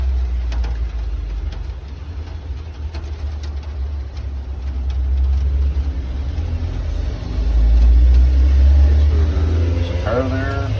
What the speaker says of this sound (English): There's a car there.